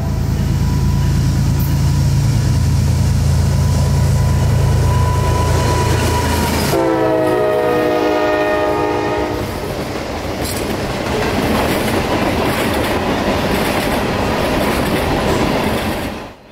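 A loud freight train on the S-Line rumbles steadily past up close, its horn blaring for several seconds before rhythmic wheel clatter and a faint squeal carry on.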